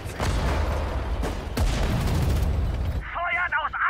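Cannons fire in the Sudden Strike 4 World War II strategy game, a rapid run of loud booming blasts that keep overlapping for three seconds before cutting off, followed by a short spoken radio-style unit voice line.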